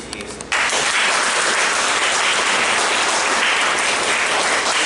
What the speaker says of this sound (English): I want you to give yourself a hand clap of appreciation